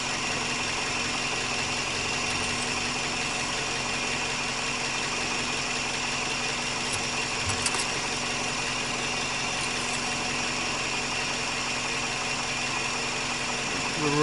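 A Scion XA or XB sits with its engine idling in a parked spot, a steady, even hum holding unchanged throughout with only faint background noise.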